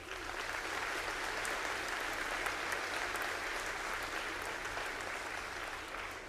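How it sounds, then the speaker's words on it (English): Steady, sustained applause fills a school Veterans Day assembly, a dense even wash of many hands clapping throughout with no break and no talking over it. "one more round of applause"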